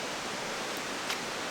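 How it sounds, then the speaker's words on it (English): Steady broadband rush of a waterfall near Horseshoe Falls in Tasmanian rainforest, a continuous hiss-like wash of falling water heard at a distance, fairly quiet and unbroken. "You might be able to hear the water falling in the background there."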